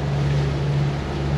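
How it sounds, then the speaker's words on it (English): The second engine of a sailing boat in the Bahamas during hurricane season runs with a steady low drone close by, mixed with wind and rushing water, with no voices. "In preparation, I started this engine as well so that we have at least"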